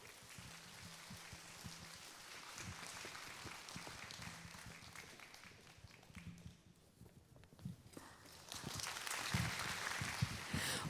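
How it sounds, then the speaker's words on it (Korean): Audience applause at a women's convention in Gwangju, a steady patter of many hands clapping in a large hall, moderately distant, swelling louder toward the end. "힘찬 박수로 맞아주시기 바랍니다"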